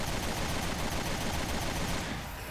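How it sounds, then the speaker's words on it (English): AK rifle fire in Resident Evil Revelations 2, a dense sustained burst of automatic shots filling the clip at close range, with no talking. "Whipped out the AK and just started unloading"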